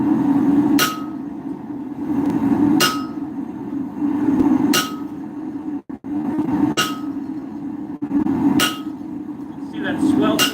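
Ball peen hammer striking a forged iron mulling iron handle: six loud, evenly spaced metallic blows about every two seconds, each ringing briefly over a steady background hum.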